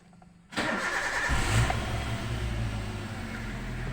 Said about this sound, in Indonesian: Nah kita coba starter lagi.